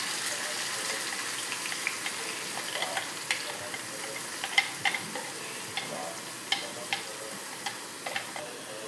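Onions and tomatoes fry in hot oil with cumin. A soft, continuous sizzle sits under regular light ticks and clinks of stirring. The sounds are fairly quiet and close, with no speech.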